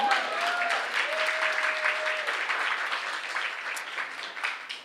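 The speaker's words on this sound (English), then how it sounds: "You can give them a cheer, they are amazing." Audience applause and cheering at a writers' launch event in Sydney, a steady, dense wash of clapping that runs throughout, with a whistle-like tone rising briefly near the start and faint voices mixed in.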